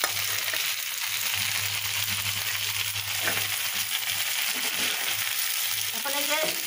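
Chopped onion and chilli sizzle in hot oil in a pan, a steady close frying hiss with occasional stirring scrapes toward the end.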